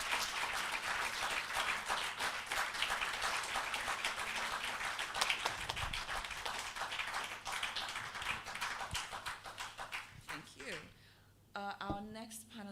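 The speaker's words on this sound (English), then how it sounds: "Can we give him a round of applause as he comes up?" A crowd at a Planetary Liberation Day event gives a panelist a loud, sustained round of applause for about ten seconds, fading out near the end as a voice begins speaking.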